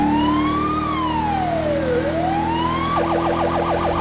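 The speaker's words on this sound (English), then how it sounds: "And I'm liking the siren I put in here." Police siren on a 2018 Jeep Grand Cherokee Trackhawk patrol car in GTA V, loud and close, a slow rising-and-falling wail that switches to a rapid yelp, over a steady engine hum.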